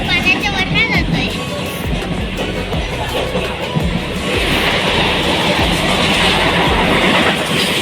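A passenger train rolls on rails over water, its loud rumble and rhythmic clickety-clack running throughout, with a rising roar in the second half and voices talking early on.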